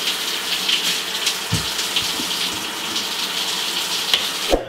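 Shower water running steadily while hair is rinsed, a close hissing spray with occasional thuds and splashes.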